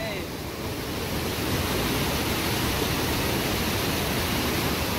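Rushing floodwater in a swollen mountain stream in Kinnaur after heavy rain, a steady broadband roar that stays loud and continuous throughout, with no break in the flow.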